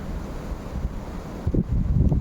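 Wind rushes and buffets against the microphone beside an abandoned mausoleum among trees, a steady low roar with rumbling gusts growing stronger near the end.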